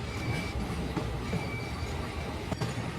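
A locomotive hauls a line of train wagons along rails, giving a steady, dense rumble with a clickety-clack wheel rhythm and a faint metallic ring that holds for the whole stretch. No voices.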